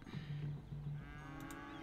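Cows moo in the city-building game Cities Skylines, a few short low bovine calls in quick succession, fairly faint, with no talking over them.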